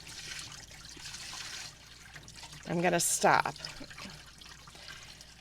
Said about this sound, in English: I can dump a lot of the water out